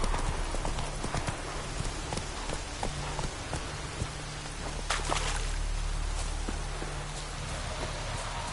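Hoofbeats of Geralt's horse Roach in The Witcher 3 game, a brisk continuous clip-clop close by with rain pattering over a low ambient hum.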